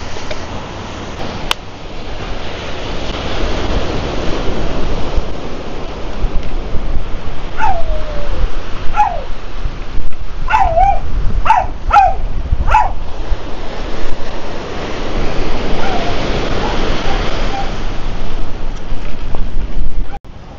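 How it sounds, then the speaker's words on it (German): Steady roar of ocean surf rolling onto the shore, loud and continuous, with a dog's brief whimpers and yips partway through. "Aber schöne Wellen haben wir hier und das Meer."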